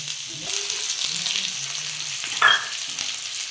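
Patra rolls (colocasia leaf rolls) fry in a little oil, giving a steady close sizzle with a brief louder crackle and stir in the middle, and no voices.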